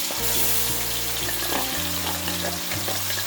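Onion paste from two large onions fries in a pan for a crab curry, a steady broadband sizzle with low hum and a few soft clinks, close and continuous without speech.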